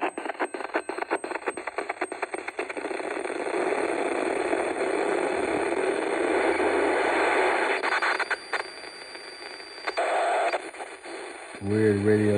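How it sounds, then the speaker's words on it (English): A circuit-bent Abstracto Concreto keyboard spits out radio-like static, buzzing interference and crackly glitches, a continuous noisy wash with stuttering bursts and dropouts, ending in a low tonal drone. "Weird radio sounds, noise, static, interference."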